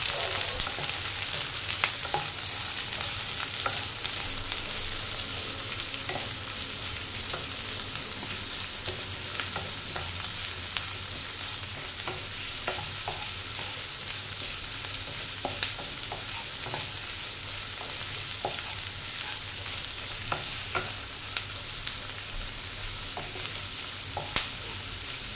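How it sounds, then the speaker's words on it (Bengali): Chopped onion frying in hot oil, a constant close hiss and crackle running unbroken with occasional light stirring clicks. "এবার আমি একে একে পেঁয়াজ কুচিটা দিয়ে দিচ্ছি। এবার এটা আমি খুব ভালো করে ভেজে নেব।"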